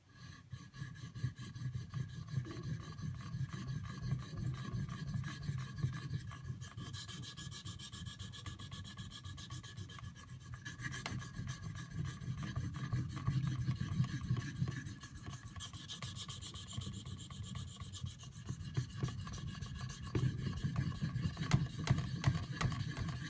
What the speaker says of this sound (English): I've never sharpened this steel before